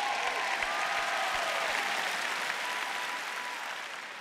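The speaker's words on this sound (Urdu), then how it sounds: "آپ اس سے بھی زیادہ بلند آواز میں تالیاں بجا سکتے ہیں" An audience clapping loudly in a dense, steady wash of applause with a few low thumps early on, holding strong before easing slightly toward the end.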